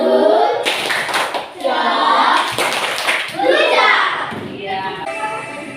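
Children and a group play a tepuk gujep clapping game in a village classroom: fast bursts of many hands clapping, loud and close, run under lively chanting and talking voices.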